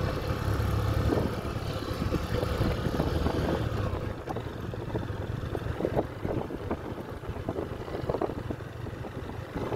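A motorbike rides along an off-road dirt track on the coast near Gwadar, its engine droning steadily beneath heavy, gusting wind buffeting the microphone for about ten seconds.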